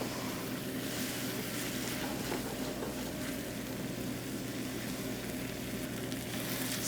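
Broth poured a few ounces at a time into a hot pan, giving a steady, fairly quiet hiss and crackle of sizzling liquid that continues evenly with no voices.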